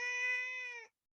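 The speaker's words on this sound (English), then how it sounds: "That is my cat, I apologize." A house cat gives a single clear, drawn-out meow close by, lasting just under a second and cutting off into silence.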